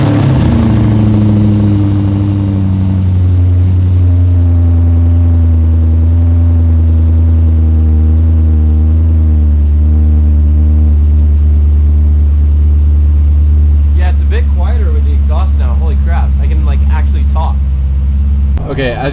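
A BMW E30 fitted with an M60 V8 engine drives along, its steady low engine drone running loud and close throughout, with a brief rising rev near the end.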